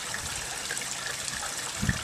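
A garden koi pond waterfall pours steadily, a continuous close gush and splash of water with a brief heavier splash near the end and no voices.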